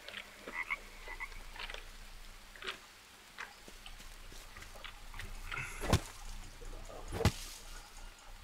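Frog croaks in the jungle survival game Green Hell, two sharp loud calls near the end over a busy backdrop of insect chirps and ambient forest clicks.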